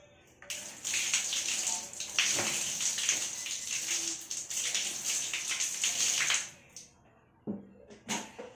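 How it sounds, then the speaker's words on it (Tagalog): A hair clip is rinsed under a running tap, a steady hissing stream of water for about six seconds with splashing variations, then the flow stops and a few faint handling sounds follow. "huhugasan ko muna itong clip bago ko i-apply sa hair"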